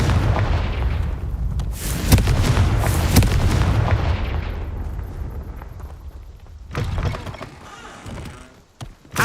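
In the game Harry Potter: Hogwarts Mystery, a Confringo blasting spell detonates in loud booming explosions, several sharp blasts followed by a rumbling decay, then another burst near the end.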